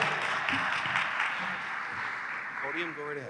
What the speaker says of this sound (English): Big round of applause for Ocutherapy.